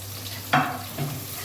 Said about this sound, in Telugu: ఇవన్నీ బ్రౌన్ కలర్ వచ్చే వరకు వేయించాలి.